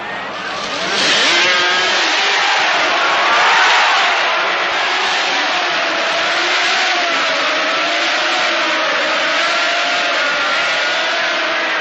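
Grand Prix racing motorcycles leaving the start at the Assen race, a loud continuous blare of many engines revving hard together, with pitch rising as the pack accelerates away.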